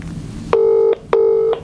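Two steady electronic ring tones, each lasting under half a second with a short gap, clear and close like a phone line ringing.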